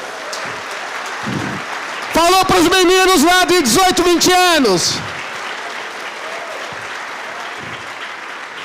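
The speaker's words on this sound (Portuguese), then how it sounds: "Pode aplaudir Jesus mesmo." A church congregation breaks into loud applause and cheering for a few seconds, bursting in between stretches of a preacher's amplified talk and then fading back under his voice.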